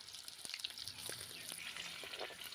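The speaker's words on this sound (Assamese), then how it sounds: "এইখিনি ৰঙচুৱা হোৱালৈকে ভাজি লৈছোঁ।" Raw onion with a green chilli fries in hot oil in a wok, a faint, continuous sizzle with light crackles and occasional stirring scrapes.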